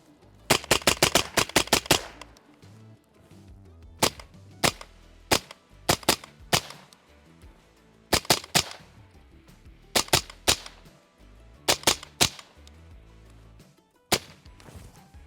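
Suppressed gunfire from a Radian Model 1 AR-15 rifle: a rapid string of sharp reports, then spaced single and double shots echoing outdoors. Each crack is loud and close, and no one talks.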